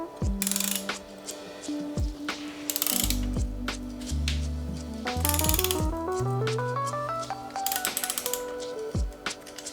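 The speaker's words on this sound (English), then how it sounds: "I'm just going to quickly remove these 4 bolts which are holding both chain rings onto the crank arm." A ratchet wrench loosens the chainring bolts on a Shimano Ultegra road bike crank, with rapid clicking bursts, turns and a rising whirr of spinning parts, close and without talk.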